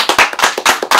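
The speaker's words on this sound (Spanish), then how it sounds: "Un fuerte aplauso." A studio audience applauds loudly for a singer on a variety show, with rapid bursts of clapping close up in quick pulses.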